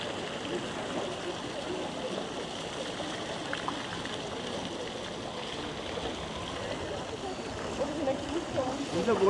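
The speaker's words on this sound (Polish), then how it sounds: "fontanna w całej okazałości jakby jakieś urządzenia techniczne napędzane wodą powodują niesamowity efekt" A large water-driven fountain with water-powered mechanical features in Basel, Switzerland, splashing in a steady, dense wash of falling water heard close and continuous for the whole stretch.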